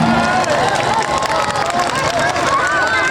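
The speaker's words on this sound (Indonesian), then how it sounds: "Kita berikan tepuk tangan yang hangat untuk Gus Miftah." A crowd at a religious gathering for Gus Miftah in Kedung Wungu claps warmly and continuously, with scattered cheers and voices rising over the dense patter of hands.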